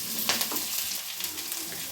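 Onions sauté for papaya sambar, giving a soft, steady sizzle in the pan with a few faint scrapes of stirring, fairly quiet and close, with no voices.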